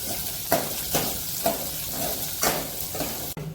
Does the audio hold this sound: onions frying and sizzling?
yes